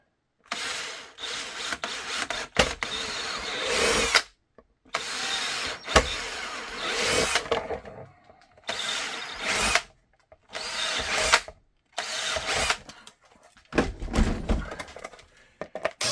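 A power drill whirs in repeated bursts of a few seconds each, drilling holes in foam, stopping and starting with short silent gaps between runs, close and fairly loud.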